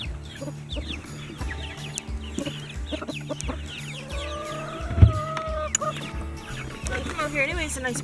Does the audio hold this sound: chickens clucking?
yes